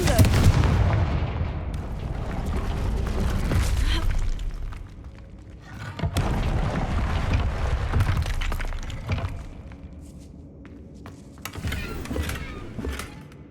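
Confringo fire spell blasts in the Hogwarts Legacy video game, loud booming explosive bursts with crackling, shattering debris, several hits spread across the stretch with brief lulls between.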